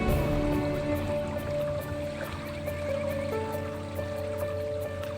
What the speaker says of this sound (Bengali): তো একটু নদীর জলের আওয়াজ শোনো।